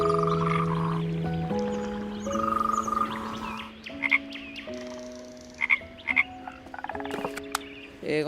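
Frogs croak in a steady layered chorus of tonal calls that shift pitch in stepped bursts, close and fairly loud, with no voices over it.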